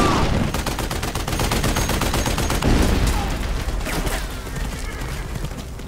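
Continuous rapid machine gun fire in a film, dense and loud, rattling without pause and fading slightly toward the end.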